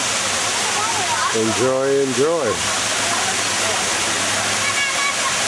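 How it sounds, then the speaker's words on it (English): Series of waterfalls cascading near a hotel in China, a constant loud rushing wash of water with voices talking over it partway through. "we got captivated by this series of waterfalls"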